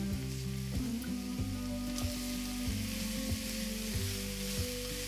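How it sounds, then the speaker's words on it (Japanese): Zucchini sautéing with salt in hot olive oil in a frying pan, giving a steady close sizzle with occasional stirring clatter and no talking. "フライパンにオリーブオイルを熱したらズッキーニを塩でさっと炒めます。"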